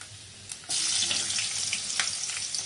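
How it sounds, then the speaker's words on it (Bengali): Black cumin and green chillies dropped into hot oil for a tempering, with a sudden burst of bright, crackling sizzle that starts abruptly and continues steadily, close and loud. "পেঁপে আলু মাছ ঝোল করার জন্য ফোড়ন দিয়ে দেবো কালো জিরে, কাঁচা লঙ্কা"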